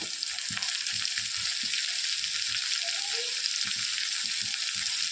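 Chopped onion and tomato fry in hot oil with cumin for a capsicum tiffin dish, a steady loud hissing sizzle with a quick rhythm of soft stirring taps underneath, close and continuous.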